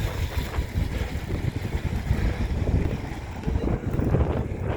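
Strong wind gusting through a snowfall in Toronto, a loud continuous roar with buffeting rumble across the microphone and no break.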